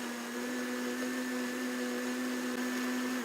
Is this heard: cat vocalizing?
no